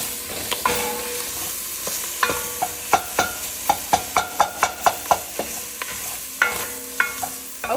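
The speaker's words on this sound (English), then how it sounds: "So add it to our pan, then we're gonna try to break it up while it heats up." Pork sausage frying in a pan while a utensil breaks it up, giving a steady close sizzle punctuated by a run of sharp, regular scraping and tapping strikes against the pan, with no talking.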